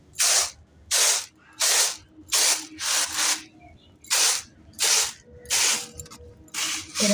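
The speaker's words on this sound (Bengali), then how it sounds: "এরকম করে ঘষে ঘষে চালটাকে পরিষ্কার করে নিতে হবে।" Rice being rubbed and scrubbed by hand to clean out dust and insects, giving nine loud, evenly spaced gritty rasping strokes close up.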